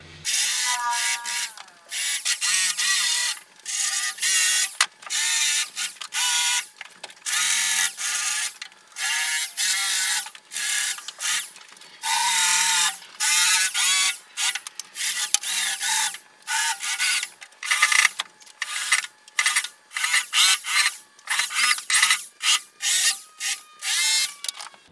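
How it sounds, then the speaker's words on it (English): Wire wheel on a power tool grinding OEM dome light glue residue off a car's metal roof, harsh high-pitched bursts that start and stop repeatedly over a long stretch, close and loud. "So I took a wire wheel to that"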